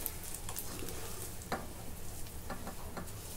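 A prepared mixture going into kheer for sheer khurma and being stirred, with a continuous low frying hiss and occasional soft scrapes of a spoon in the pot.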